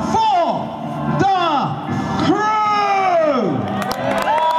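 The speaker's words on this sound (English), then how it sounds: "give the biggest cheer you possibly can for the" A crowd of spectators at Warwick Castle cheers loudly for the trebuchet crew, with sustained rising and falling whoops and shouts that carry on without a break.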